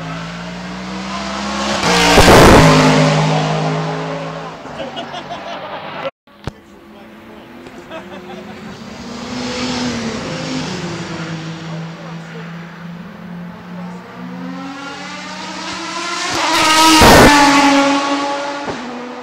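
Aston Martin race cars at Le Mans 2009 roar past, one loud pass early and another near the end, with engines rising and fading and a lull between, while people talk over the scene.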